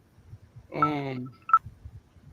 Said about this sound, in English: I wonder is that somebody's phone ringing or something?